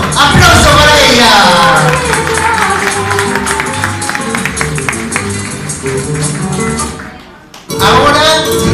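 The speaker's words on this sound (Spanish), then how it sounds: "¡Aplauso para ella!" Audience applauding a woman being introduced at a celebration, steady dense clapping and crowd noise under a loud announcer's voice, ending with a brief lull.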